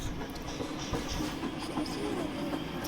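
A Roblox R142 subway train rolling along rails in a video game: a steady, dense rumble with faint clicking and hiss, continuous and close, with no voices.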